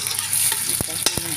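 Onion sautéing in a pan, a bright steady sizzle close by with a couple of quick stirring scrapes, brief and alone without talk.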